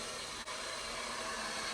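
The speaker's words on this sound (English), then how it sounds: "I'm going to take the hair dryer and begin the process all over again" A hair dryer blows on natural hair during straightening, a steady, close whooshing hum that runs throughout with only a brief dip near the start.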